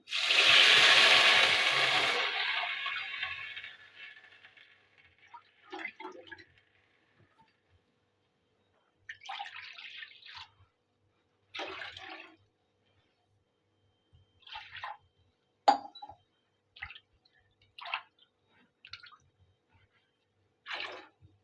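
A wheat flour and water mixture is poured into hot ghee for halwa, a loud gushing pour and sizzle at the start that fades into scattered faint bubbling, spitting and stirring sounds.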